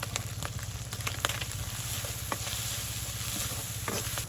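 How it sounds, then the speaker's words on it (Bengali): Small shrimp fry in a pan with salt and turmeric during village cooking, giving a constant, even crackling sizzle with occasional faint pops, close and steady with no talking. "তো ইসা মাছ ভাজি ভেজি হয়ে আসছে"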